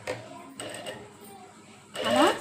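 A sewing machine stitching cut-work on a blouse, heard in short mechanical bursts at low volume with pauses between, closing on a louder run of stitching.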